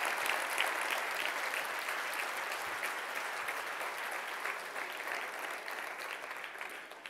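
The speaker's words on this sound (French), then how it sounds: "merci et une bonne main d'applaudissements pour vos succès économiques dont on est fiers" A hall audience gives sustained, even applause at an economic development event, a dense continuous clapping that holds steady and tapers slightly toward the end, with no voices over it.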